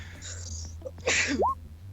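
A single sharp sneeze bursts out close by, preceded by a quick breathy intake.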